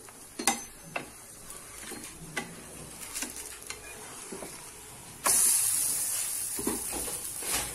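Banana oats dosa cooks on a pan with oil, crackling softly while a spatula taps and scrapes the surface. Midway, a loud, steady sizzling hiss surges up close and keeps going to the end.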